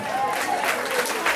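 Brief burst of audience applause at a Guadeloupe carnival contest, dense crowd clapping with some voices mixed in, steady and moderately loud.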